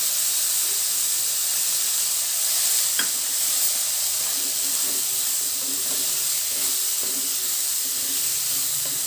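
Chana dal frying in hot oil with turmeric in a pan, a steady loud sizzle and hiss throughout, with faint stirring scrapes underneath.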